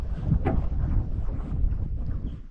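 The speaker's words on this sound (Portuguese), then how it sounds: "Tá ventando muito." Strong wind on an island shore while fishing buffets the microphone with continuous low rumbling gusts and a faint rustle throughout.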